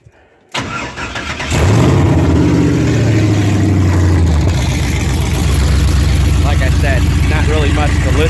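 A 1971 Chevy Nova with an LS-swapped V8 and open exhaust fires up after a short silence, then settles into a loud, steady, lopey idle with a deep rumble, with brief revs early on.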